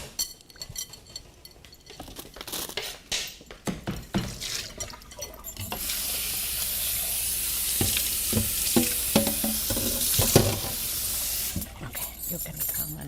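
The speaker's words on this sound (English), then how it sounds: "So I washed it and I put in the water." Tap water runs steadily into a kitchen sink while taro root is washed, a broad continuous rush after clattering handling sounds, with people talking nearby.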